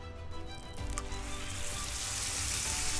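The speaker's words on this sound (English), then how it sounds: "And we grill this baby. Let's go ahead and sear it" Wagyu steak laid on a hot grill to sear, a soft sizzle that jumps up at contact and then swells into a steady, close hiss with no talking.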